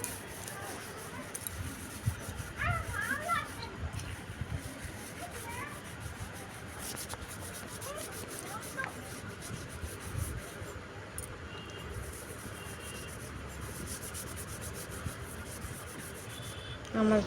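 Something is scrubbed by hand in a home, a continuous rough rubbing and scraping that runs steadily at close range with faint background noise.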